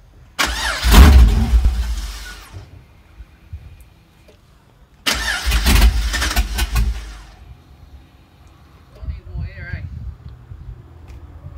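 An LS engine in a project car cranks and fires twice, each attempt a loud burst of low rumbling that fades after a couple of seconds, followed by quieter engine noise and brief voices near the end.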